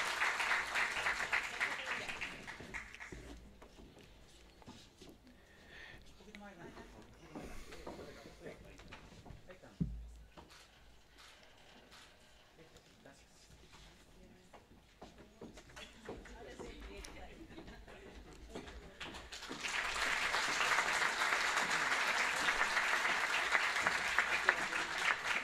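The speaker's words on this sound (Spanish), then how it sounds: "Brindemos un caluroso aplauso a los docentes y funcionarios homenajeados" Audience applause at a medical school anniversary ceremony honouring faculty and staff, loud clapping at the start that fades into a quieter stretch with faint voices, then swells again into full applause.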